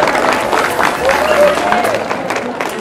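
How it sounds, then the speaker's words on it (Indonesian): Applause from the crowd at a regional drum band competition, a short burst of clapping with a background voice murmuring over it. "Jadi tepuk tangan untuk adik-adik semuanya."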